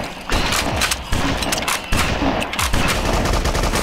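Rapid gunfire and explosive launcher blasts from the BloodRayne video game, set in a watery area, come as dense, loud repeated bursts with sharp attacks at regular intervals and no talking.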